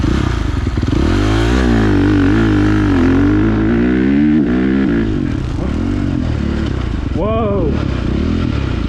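2023 KTM motocross bike with a quickshifter launching and accelerating hard, engine revving loud and close as it climbs through quick upshifts, with a startled exclamation from the rider over the roar.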